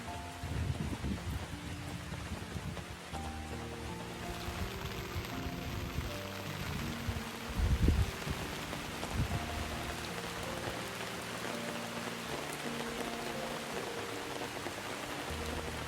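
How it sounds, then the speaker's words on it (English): Steady rain falls through the forest at Periyar National Park in Kerala, a dense continuous patter on leaves and ground with a few louder splashes, heard alone with no talk. "it suddenly started raining. And wow, rain inside the forest."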